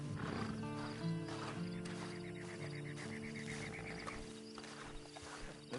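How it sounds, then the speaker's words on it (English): A horse in the video game Red Dead Online whinnies and snorts near the listener, with clip-clop hooves and game ambience, fairly faint with no talking. "Then you better get on this horse."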